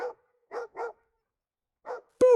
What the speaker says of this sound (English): This breed is called a Boston Terrier.